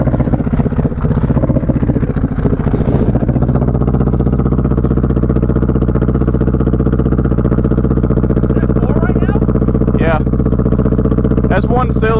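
A motorcycle engine running roughly on one cylinder after a deep river crossing at a trail park keeps a loud, steady idle throughout, with a few higher revving bursts near the end and people talking over it.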